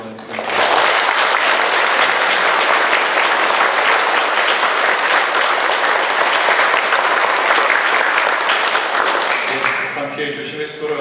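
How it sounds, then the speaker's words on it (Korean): A congregation at a Catholic Mass on a May evening of devotion to Mary gives a loud, sustained round of applause for the volunteers. The clapping is thick and even for about ten seconds, then tapers as a voice begins. "우리 수고하신 모든 봉사자분들을 위해서 박수 한번 부탁드립니다"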